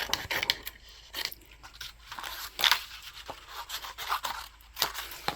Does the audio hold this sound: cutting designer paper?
yes